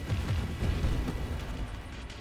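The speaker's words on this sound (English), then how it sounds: "little mini explosions now" Small chained explosions from the Deflagration upgrade in the space shooter Nova Drift pop and rumble continuously, a dense low booming wash with no clear gaps.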